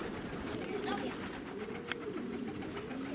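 Soft, rolling coos from agitated racing pigeons at their loft repeat over a steady background murmur, with one sharp click partway through.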